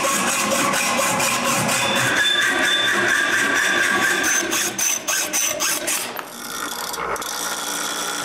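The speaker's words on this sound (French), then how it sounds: "je marque puis je coupe le métal" Rusty metal plates, cleaned and marked for a wooden bandsaw build, are cut with rapid rhythmic rasping strokes that run loud and close, slow and stutter, then stop near the end.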